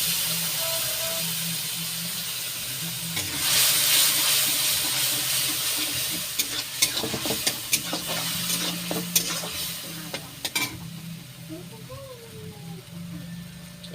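Tomato paste hits well-heated white oil for chicken momo, bursting into a loud broadband sizzle that gradually settles, with a voice talking over the frying.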